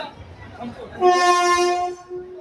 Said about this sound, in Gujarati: આપણું રાજકોટ આખી ટ્રેન ઊભી રહી છે